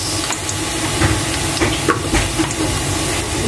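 Onions sizzling in a hot pan for a Pinoy-style chicken curry, a steady dense hiss close by, with faint scattered clinks and stirring sounds on top.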